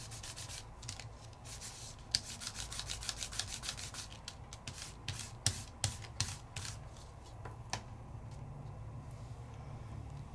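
Ink being rubbed over a deeply embossed card made with a Spellbinders 3D embossing folder, a rapid run of soft dry scrubbing strokes, close and fairly quiet, with no voices.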